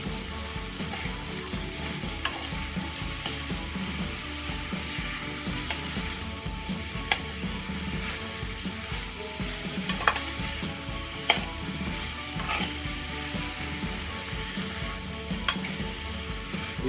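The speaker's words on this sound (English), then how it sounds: "I am going to add the radish, the white radish, which I've chopped into cubes. And give it a quick stir." Cubed white radish frying in a pan for thoran, a steady close sizzle broken by regular scrapes and clicks of a spoon stirring, with no voices.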